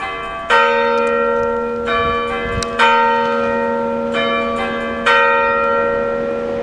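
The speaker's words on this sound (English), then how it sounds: "That's your quarter to chime." The church bells at Meltham ring the quarter-to chime, a sequence of loud, resonant bell strikes spaced about a second apart, each ringing on with long humming decay.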